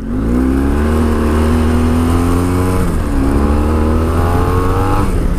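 BMW GS motorcycle engine revving hard and accelerating on rough ground, loud and close with rising pitch that dips briefly and climbs again.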